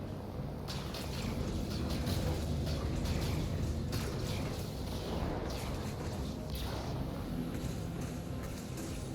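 Ship turret gunfire in Star Citizen Alpha 3.1.4, a dense, steady barrage of booming shots rolling on for several seconds with low rumble and sharp cracks, loud and continuous.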